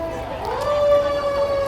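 Ambulance siren from a volunteer EMS service passing in a small-town canal days parade, a steady rising and holding wail, moderately loud over crowd and street ambience.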